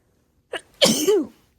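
A single sneeze with a short sharp inhale burst followed by a loud, drawn-out explosive release, close to the microphone in a quiet indoor room.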